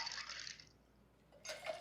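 A peach puree cocktail is poured from one glass into another, with a brief splashing pour, a short pause, then a second pour, quiet and close.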